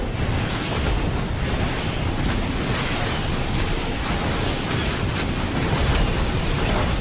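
Missile blasts pound continuously in Transformers War for Cybertron, a dense roar of overlapping explosions and crackling debris with no pauses.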